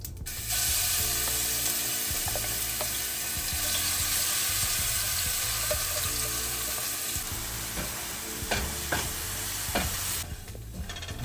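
Spice mix frying in hot oil with mustard seeds and asafoetida, a steady loud sizzle with occasional stirring scrapes throughout, no voices.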